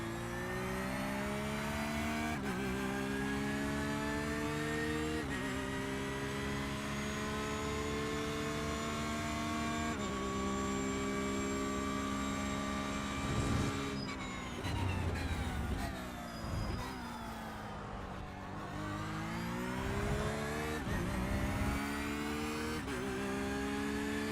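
Mazda MX-5 race car lapping Monza in the iRacing sim, its engine droning steadily with rising and falling pitch through gear changes, braking dips and re-acceleration, loud and continuous with no voices.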